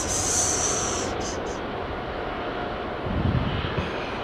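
A Qatar Airways Airbus A350 at Heathrow Airport, heard as a broad, steady engine roar from some distance, with a brief high whine early on and a low rumble swelling near the end.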